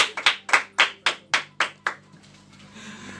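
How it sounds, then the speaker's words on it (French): Someone claps in a studio on a French FM show for a guest named Alex, about nine sharp, evenly spaced claps that fade into a quiet room hum. "Applaudissez pour Alex."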